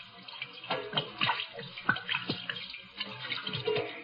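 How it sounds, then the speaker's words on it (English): Hands are washed with poured gin as a radio drama sound effect, giving a splashing, trickling wash of liquid with several short sloshes, close and moderately loud, with no talk. "Hate to waste this good gin washing my hands."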